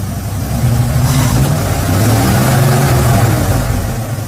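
The engine of an abandoned truck on a farm field drones loud and close, a steady rough rumble that swells slightly as if revving, with no cranking clearly set apart.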